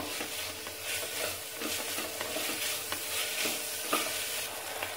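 Spices sautéing in a pan for a spicy Madurai chicken curry: a steady close sizzle and fry with stirring scrapes throughout, no voices.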